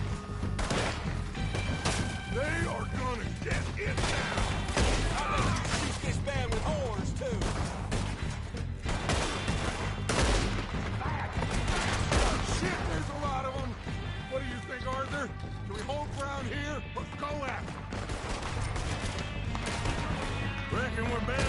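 Gunfire in Red Dead Redemption 2, a dense run of sharp shots and impacts, crowded and continuous, mixed with game music and talk throughout.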